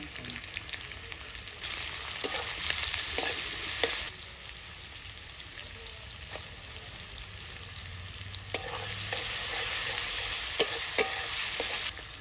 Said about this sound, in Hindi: अब मैं डाल रही हूँ बारीकी से काटी हुई लहसुन